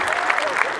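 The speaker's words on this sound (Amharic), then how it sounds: "የቆረባችሁ ብቻ አጨብጭቡልኝ።" A church conference audience claps on request, a short burst of dense crowd applause with a voice heard over it.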